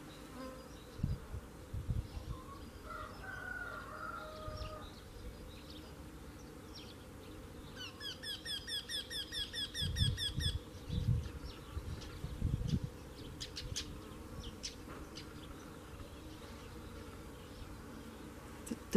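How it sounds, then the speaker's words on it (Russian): Bees buzz around a garden with roses, peonies and tulips after a storm, a soft continuous hum with one passing insect whine drawing near midway, faint and outdoors with no talk. "Пчелки."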